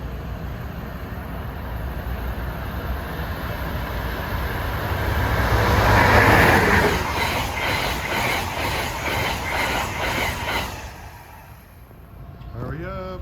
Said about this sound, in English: now is Amtrak train 85, en route from Boston down to Richmond, Virginia